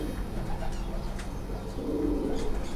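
Breeder pigeons at a fancier's home loft give soft, low cooing calls, a steady murmur close by with faint chirps above it.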